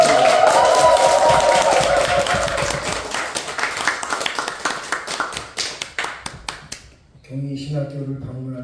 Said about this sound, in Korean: 우리 나오실 때 뜨거운 박수로 환영하겠습니다.